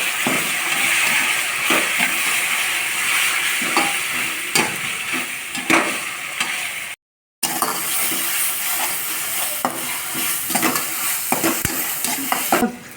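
Ginger garlic paste frying with onions in a pan for chicken pulao, a steady loud sizzle under repeated scraping stirs, with a brief gap near the middle.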